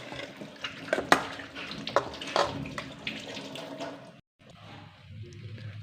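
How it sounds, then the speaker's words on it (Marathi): Water is sprinkled over soybean bhaji cooking in a pan: a few short splashes and trickles, close and moderately loud, followed by a brief silence and a softer, quieter stretch. "थोडंसं पाणी शिंपडून त्यावर झाकून ठेवावे."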